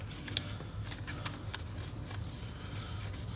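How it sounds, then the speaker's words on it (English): Paper folded into a triangle and creased back up at close range, with a few crisp rustles and crinkles over a steady, quiet background noise and no talking. "Fold this triangle down and fold it back up."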